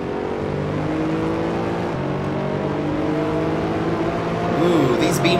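BMW race car in the Assetto Corsa video game, a loud, sustained engine drone with shifting pitch as it revs and accelerates, a player talking over it.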